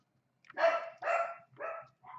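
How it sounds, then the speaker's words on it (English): Dogs barking nearby: four loud, evenly spaced barks in quick succession against a quiet background. "Oh, the dogs are barking."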